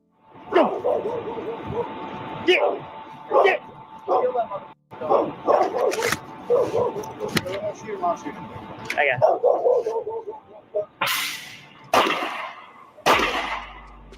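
A dog barking outdoors during a police encounter at a burning house, repeated sharp barks and yips scattered through the scene, mixed with people talking and clothing rustle.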